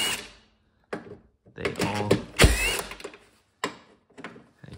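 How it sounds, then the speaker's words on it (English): A 10 mm socket on an extension works loose bolts on a car being parted out, giving close, intermittent bursts of ratcheting clicks and metallic rattles separated by short pauses. "an extension and my 10 millimeter socket. There's bolts up here. I'm just gonna unbolt all of them"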